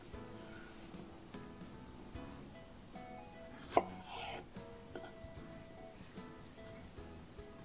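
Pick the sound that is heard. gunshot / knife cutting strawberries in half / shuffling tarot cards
knife cutting strawberries in half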